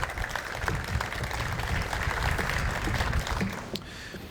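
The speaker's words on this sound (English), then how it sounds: "So a big round of applause to all of them." An audience at the opening of a new airport ticketing lobby applauds for airport staff, a moderate, steady patter of clapping that thins out near the end, with no speech over it.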